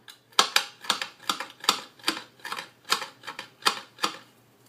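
A kitchen knife chopping fresh rosemary on a cutting board, a steady run of about fourteen sharp close taps in even rhythm, no talk.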